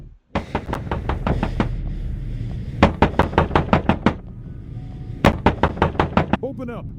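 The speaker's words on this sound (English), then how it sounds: "Where's that knocking coming from?" Repeated door knocking in a horror video game set on a bus stranded in a snowstorm, sounding as sharp, loud bursts of several raps in quick groups, coming in three clusters of knocks.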